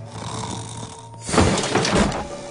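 A cartoon dinosaur-costumed character, the Snore-A-Saurus, imitates snoring with the voice: a rough, rumbling snore-like noise that swells in the second half of a short burst.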